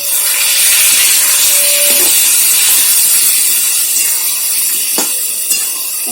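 Water splashes into a hot pan of spice paste for a vegetarian papaya and lentil-fritter curry, setting off a loud, close, continuous steaming hiss that eases slightly, with a couple of faint knocks toward the end.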